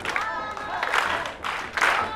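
A crowd claps in a steady rhythm at a pro wrestling show in Japan, Masahiro Takanashi's 20th anniversary event, the claps swelling in waves beneath an excited announcer's commentary.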